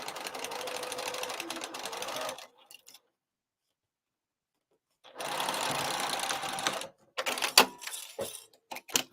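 A sewing machine stitches a crossbody bag in close, loud bursts of rapid mechanical whirring, stopping for a few seconds of silence before starting again in short runs.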